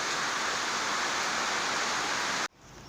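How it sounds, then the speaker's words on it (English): Heavy tropical rain pours onto a Caribbean construction site where fresh concrete has just been cast. It makes a dense, steady hiss that cuts off abruptly near the end, leaving only a faint background. "the concrete isn't doing so well in the rain and can't do anything with this amount of water falling"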